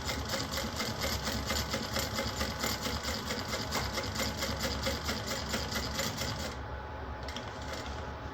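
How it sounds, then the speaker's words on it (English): A sewing machine stitching vinyl without edge coating runs steadily with a fast, even mechanical rattle close by, then slows and quiets toward the end; no one speaks. "And sew all the way around"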